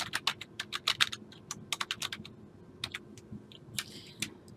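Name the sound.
typing on a computer keyboard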